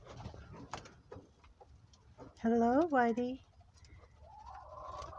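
Between bits of soft talk, a nearby dove gives a short, throaty cooing call lasting about a second, louder than the voices around it.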